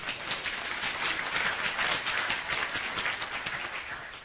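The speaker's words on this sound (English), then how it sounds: "Give him a round of applause." An audience applauds at a talk, a dense continuous wash of many hands clapping at once, steady and moderately loud for several seconds with no voices over it.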